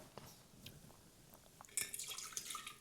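Liquid is poured out of a tasting glass, beginning with a few faint drips and taps, then a louder, brighter trickle and splash over the final second.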